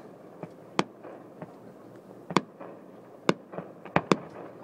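Small fireworks set off at the Garibaldi Days celebration, heard as about eight sharp, irregular pops and cracks, moderately distant, over a low outdoor background rumble.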